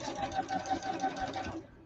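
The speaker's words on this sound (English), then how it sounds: "Dinglehopper does not like to sew fast." A sewing machine, stitching on sublimation blanks for t-shirts at a home work table, runs with a steady close mechanical whir and regular pulsing stitch rhythm, then stops abruptly near the end.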